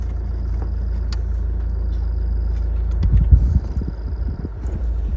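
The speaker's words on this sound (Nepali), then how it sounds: "गाडी नतानेर पछाडि आएर छ" A car climbs a steep uphill road toward Bhairavkunda in Sindhupalchowk. Its engine gives a steady, close low rumble, with a stretch of rougher thumps and jolts midway, and no voices.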